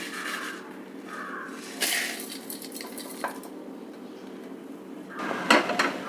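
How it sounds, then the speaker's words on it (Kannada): Roasted spices and chillies scrape and clatter out of a pan into a mixer jar, with a few metallic clinks and rattles at irregular moments, close by and otherwise quiet, with no voices. "ಇದನ್ನು ಇವಾಗ ಮಿಕ್ಸಿ ಜಾರ್ಗೆ"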